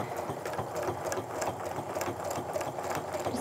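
A home sewing machine runs continuously while quilting along a ruler, giving a steady, close whirring and rapid needle chatter throughout at moderate volume.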